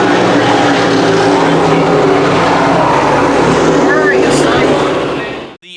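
Dirt track sportsman race cars running under caution at Can-Am Speedway, a loud, continuous engine roar filling the whole clip with a public-address announcer talking over it.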